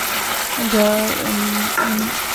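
Vegetables are stir-fried in a pan, a steady sizzle with brief stirring scrapes and a few short tonal squeaks over a fairly constant level.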